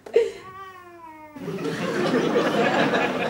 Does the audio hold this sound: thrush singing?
no